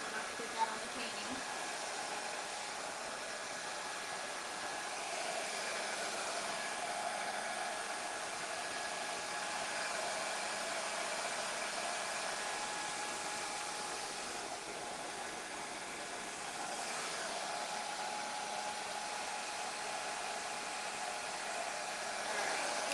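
A hair dryer drying wet paint on a painting gives a steady, loud, continuous whooshing roar that runs unbroken from start to finish.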